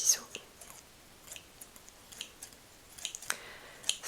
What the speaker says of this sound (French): les petits ciseaux.